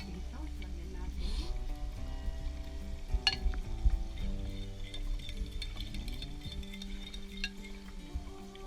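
Homemade sauce is poured into Pad Thai frying in a pan, giving a steady sizzle with stirring and a few clinks of utensils against the pan. A voice talks over the cooking at moderate level.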